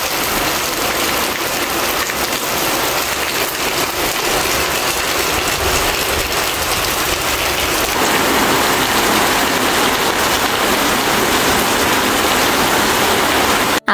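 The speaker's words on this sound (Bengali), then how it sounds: "আসেন আমরা আগে বৃষ্টির শব্দটা শুনে আসি।" Heavy rain pours down outdoors in a loud, dense, unbroken hiss close by, growing slightly stronger toward the end, with no voices.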